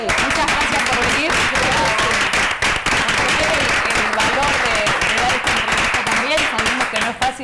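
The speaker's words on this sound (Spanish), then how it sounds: "desde ya yo quiero que le brindemos un aplauso a estos papás" A group in a television studio applauding a visiting group of parents, loud sustained clapping filling the whole stretch from start to finish.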